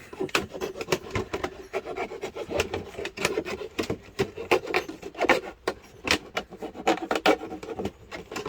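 A blade cuts around the side of a plastic bucket, giving a rough, uneven series of scraping and rasping strokes up close, with no talk.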